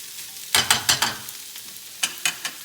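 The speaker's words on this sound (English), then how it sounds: "you have to work the garlic in the spinach so it doesn't burn" Garlic and spinach fry in a pan as they are turned, with a low sizzle broken by several sharp scraping and tossing bursts in two clusters.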